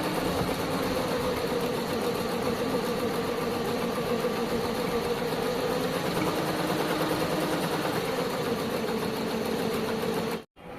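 A computer embroidery machine stitches a green mirror-work design with a steady, continuous mechanical whir and rapid needle rhythm that runs unbroken at even loudness, then cuts off briefly near the end.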